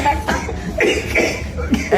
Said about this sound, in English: you can tell that he's coughing through quite a bit of pain there